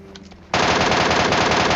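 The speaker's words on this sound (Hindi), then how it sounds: "वो एनिमी उन पर फायर भी करना स्टार्ट कर देता ऊपर से" Enemy gunfire in the video game PUBG: a sudden loud burst of rapid automatic shots, evenly spaced and close, after a brief quiet moment.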